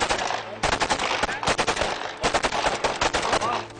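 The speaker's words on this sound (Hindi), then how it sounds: "मोहल्लेदारों के बार बार मना करने के बावजूद भी फायरिंग का सिलसिला जारी रहा और गुलाम मुर्तजा के मोहल्लेदार सदीक" Rapid bursts of gunfire in a crime reenactment, loud dense volleys of shots in quick succession with brief gaps between strings, harsh and close throughout.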